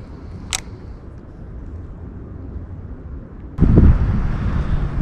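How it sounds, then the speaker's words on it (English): Wind blows across a pond on a warm day, a low, steady rumble of gusts buffeting the microphone, quieter at first, then growing suddenly louder and rougher near the end. "this wind coming through is a little bit chilly"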